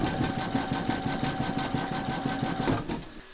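A Brother embroidery machine hums steadily with rapid rhythmic needle strokes as it sews a satin stitch around a whimsical Santa's nose, close and even, fading at the end.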